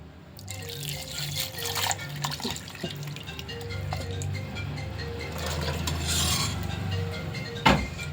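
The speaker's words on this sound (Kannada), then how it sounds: "ಆಪಮ್ ಇದಕ್ಕೆ ಸ್ವಲ್ಪ ನೀರು ಹಾಕ್ತೀನಿ." Water pours and trickles steadily into a bowl of appam batter for several seconds, with occasional drips and a light clink near the end.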